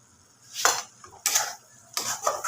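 Masala for an egg and potato curry being sautéed, with three distinct bursts of spoon scraping and clattering against the pan over a faint low sizzle.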